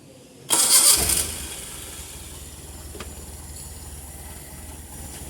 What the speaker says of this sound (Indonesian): menghidupkan mesin.